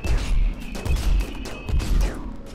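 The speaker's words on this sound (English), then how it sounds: "Okay, you are shooting at midstorm. That's fine. Just don't shoot at my turrets." Rapid bursts of turret fire in the colony defense game RimWorld, clustered thumping shots repeating in quick volleys, loud and close, with no talking.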